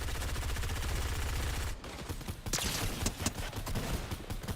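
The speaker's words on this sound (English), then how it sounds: "Shooting that LMG." Light machine gun fire in a video game, a sustained rapid automatic burst followed after a short break by more chattering shots, loud and continuous with no voices over it.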